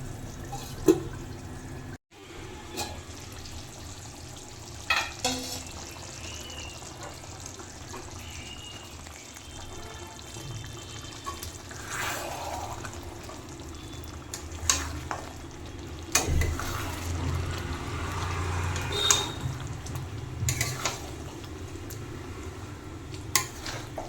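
Mutton curry cooks in a pot over low gas heat, with a soft continuous sizzle and bubbling and occasional clinks of a spoon or lid against the pot, and no talking.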